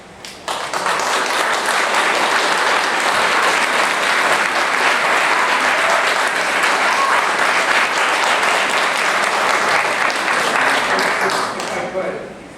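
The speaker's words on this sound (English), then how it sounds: "I've let quite a bit of applause go on back and forth here." An audience at a legislative judiciary committee public hearing breaks into sustained applause, a dense, loud wash of clapping that holds for about twelve seconds before fading, with little talk over it.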